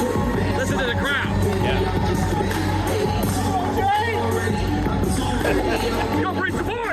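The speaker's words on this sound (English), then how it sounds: "Listen to the crowd." Crowd at an amateur MMA fight event, a dense roar of cheering, whoops and shouting voices that continues without a break, with announcements booming in a loud indoor venue.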